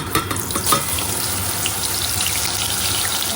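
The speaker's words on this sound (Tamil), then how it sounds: "அப்பளம் பொறிக்கிறேன்" Papadum fries in hot oil, a steady close sizzle and crackle that continues without pause.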